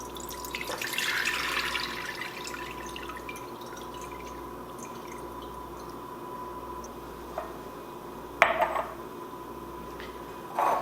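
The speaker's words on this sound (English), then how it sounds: "Now I want to drain this juice off it." Juice from home-canned sweet and sour chicken draining off, heard as a faint steady trickle with occasional sharper drips and splashes, close by in a quiet kitchen.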